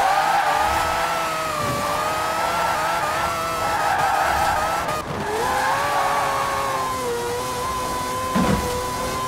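Car drifting in Forza Horizon 4, a continuous loud engine drone with sustained tire squeal that rises and falls through the slide, up close and alone with no talk.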